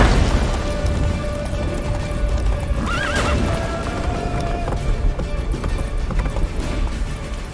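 Roach the horse galloping in The Witcher 3, with rapid pounding hoofbeats, a sharp neigh partway through and a low rumbling game soundscape, a voice speaking briefly over it.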